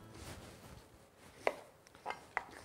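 A knife thinly slicing an onion on a board, three or four crisp, separate cuts, close and quiet, spaced irregularly.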